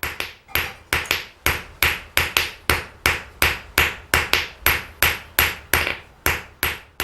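A silver ingot is hammered on an anvil with a metalworking hammer while gripped in forging tongs, striking about twenty loud, ringing blows in a steady rhythm of roughly three per second, close up and with no talking.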